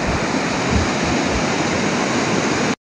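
A small mountain river in the Annapurna region of Nepal flows under a bridge. It makes a loud, steady broadband rush of water, close and unbroken, with no voices, before it cuts off abruptly.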